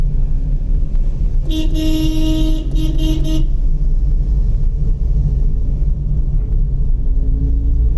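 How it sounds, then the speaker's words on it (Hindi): A car horn blares in two close bursts at a blind turn on a mountain road in Uttarakhand near Nainital, over a steady engine rumble, loud and near, the vehicle droning on after the honks stop. "अब देखिए ब्लाइंड टर्न है, हॉर्न बजा दिया"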